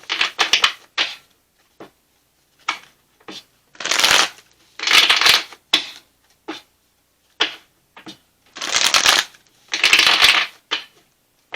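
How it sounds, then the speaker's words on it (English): A deck of oracle cards is shuffled by hand in repeated bursts of riffling and flicking, each lasting about half a second to a second, separated by short quiet gaps, close and clear with no talking. "We'll cut the deck here."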